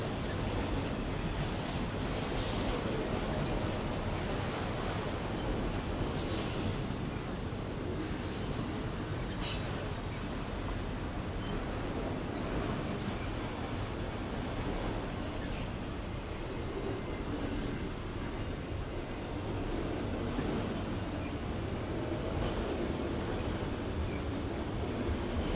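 A northbound freight train with old Conrail auto rack cars rolls past at low speed, a steady rumble of wheels on rail with intermittent metallic squeals and clanks, faint and distant.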